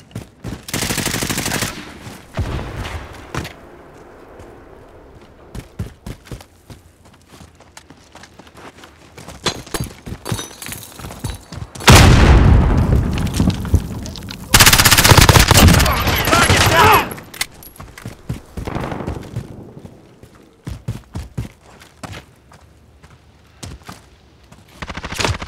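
Bursts of automatic gunfire in a Call of Duty Modern Warfare team deathmatch at Azhir Cave, with close, loud volleys around 12 and 15 seconds among scattered shots, footsteps and in-game callouts.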